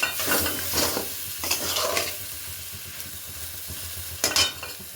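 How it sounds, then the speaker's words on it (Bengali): Spice paste being stir-fried in a pan over a high flame, with a steady sizzle and the repeated scrape and clack of a spatula stirring, plus a sharper clatter near the end. "এরপরে এটাকে ভালো করে কষে নেব। ফ্লেমটা কিন্তু হাই থাকবে।"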